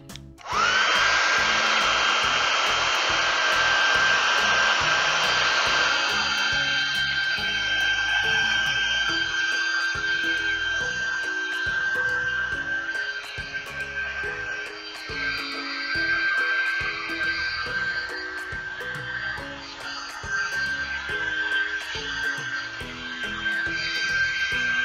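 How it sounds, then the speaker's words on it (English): A hair dryer blows on freshly applied white paint, producing a steady, close whir with a high whine that runs unbroken for about twenty-five seconds. "first we have to blow dry the white so that when we paint the flower on, which is our next step, that it's dry"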